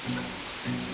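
Rain patters in a soft, steady wash over about a second and is fairly faint. No voices are heard.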